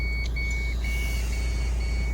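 A van's reversing warning beeps repeatedly in a steady high tone, close and clear, over a loud, constant low engine rumble.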